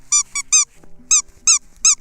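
A playful puppy fetching a ball gives six high, sharp squeaks in quick bursts, close and clear, separated by brief quiet gaps with faint low rustling between them.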